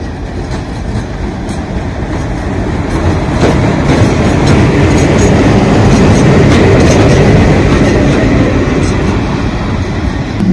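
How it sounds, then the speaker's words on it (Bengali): A train coach rolling across points to rejoin its train on the Khulna–Mongla line, a loud, close, continuous rumble with rhythmic clicking wheels and faint squeals, swelling and easing over ten seconds with no voices. "এই বগিটি ট্রেন ট্র্যাক চেঞ্জ করে আবার আসছে এই ট্রেনের সঙ্গে যুক্ত হতে।"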